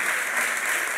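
Studio audience applauding on a Serbian evening talk show, a steady dense clapping that fills the whole short moment at even loudness, with no voices over it.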